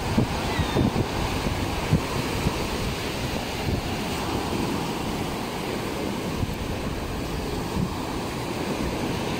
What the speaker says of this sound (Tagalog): nakikita nyo malimit ang baksak ng alon